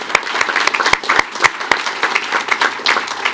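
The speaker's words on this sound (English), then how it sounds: "So let's give a round of applause to all of our police officers." A board meeting crowd gives police officers a round of applause, with brisk, dense clapping and a few sharp individual claps standing out, loud and continuous throughout.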